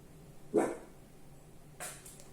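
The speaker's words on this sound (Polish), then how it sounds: "To był jakiś zwykły pies" An ordinary dog barks twice, a sharp, fairly close bark followed a little over a second later by a fainter, more distant one, with quiet background noise in between.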